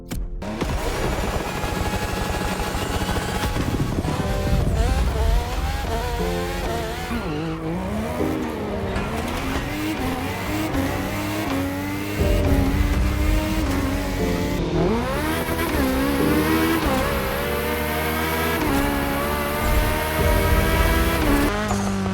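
A human voice imitates a Formula 1 car engine inside The Crew Motorfest racing game, producing continuous, loud, buzzing revs that climb and fall repeatedly, with gear-change-like sweeps and a brief drop around the middle.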